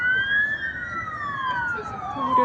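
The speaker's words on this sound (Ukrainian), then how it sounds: "Швидка, напевно." A siren wails in a long sweeping tone as an emergency vehicle passes along a city street by the river in Prague, loud and close over steady traffic noise.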